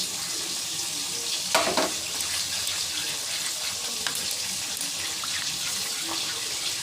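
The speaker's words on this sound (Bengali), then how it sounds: "এদিকে ডালের জল দিয়ে দিই ডালের মধ্যে" Water poured into a pot of mung dal as it cooks at home, a steady wash of running and splashing water with a brief louder splash near the start, continuous and close, with no talk over it.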